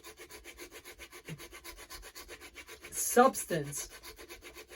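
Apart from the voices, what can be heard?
sanding a tubeless tire with rubber-backed sandpaper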